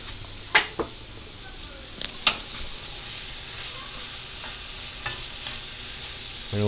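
Tofu scramble sizzles steadily in a hot pan, with a few clinking stirs and scrapes of a utensil near the start, close and fairly quiet, and no one talks.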